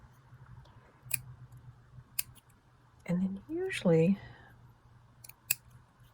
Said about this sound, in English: the trick is you're turning the paper, not the scissors